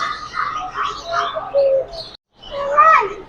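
A cockatiel calling at a Cartimar pet market in Pasay, a series of close, bright chirps and warbling notes with a brief pause before a final louder burst.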